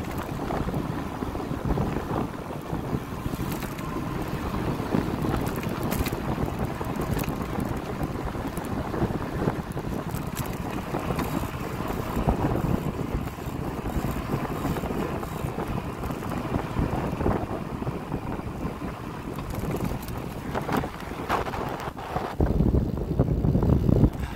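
Strong wind buffeting the microphone while riding downhill, a constant loud roar with gusty fluctuations lasting throughout and swelling near the end.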